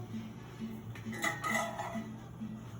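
A cheese quesadilla frying in a pan is flipped with a utensil, giving a few quick scrapes and clinks of metal on the pan over a faint steady kitchen hum, with no voices.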